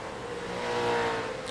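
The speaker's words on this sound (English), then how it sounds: "get the cars coming around the corner" V8 touring race cars of the Kumho Tyres V8 Veterans series round a corner of a racing circuit, a steady engine drone that swells slightly mid-pass, heard alone and at moderate distance.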